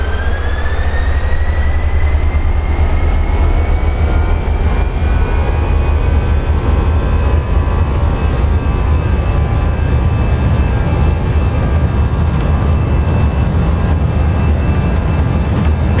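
An Airbus A320 in the X-Plane 11 flight simulator rolls down the runway at takeoff power, a loud, sustained engine roar with a rising whine and a heavy low rumble throughout.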